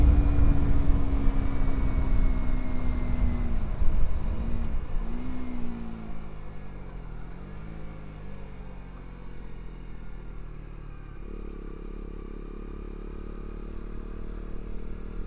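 A Honda RC 125 motorcycle engine drones steadily while riding, its pitch rising and falling through gear changes before settling into a quieter, even hum, with faint wind rush throughout.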